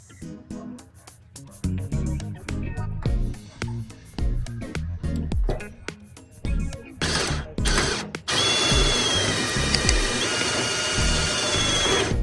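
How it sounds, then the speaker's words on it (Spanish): Power drill boring a straight hole, its bit kept upright by a square, running in repeated short bursts with clicking pauses, then a sustained loud whir toward the end. "apoyar en su interior el taladro de una manera recta y poder realizar"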